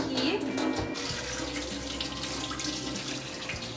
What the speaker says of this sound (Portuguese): Aí o que eu vou fazer? Eu vou pegar, vou jogar essa água aqui.